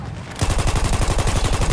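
Support machine gun in Battlefield 1 firing a rapid sustained burst at about 700 rounds per minute, loud and close, with evenly spaced shots continuing after a brief quiet start.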